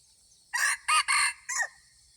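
A single rooster crows close by, four loud bursts in a rising-and-falling cock-a-doodle-doo phrase, against quiet low background rumble.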